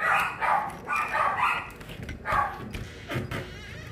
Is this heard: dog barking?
yes